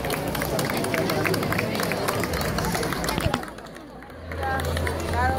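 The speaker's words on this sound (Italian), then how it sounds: "un applauso pure al bambino" Audience applause for a child at a seaside community event, many hands clapping in a steady, crowded patter with murmuring voices, easing off after a few seconds as room noise and a low hum remain.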